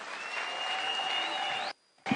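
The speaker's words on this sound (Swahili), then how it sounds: "Tumukaribishe na makofi tafadhali" Crowd applause at a Kenyan political rally as Prime Cabinet Secretary Musalia Mudavadi is welcomed, a steady broad wash of clapping for under two seconds, then a brief pause before one more sharp sound.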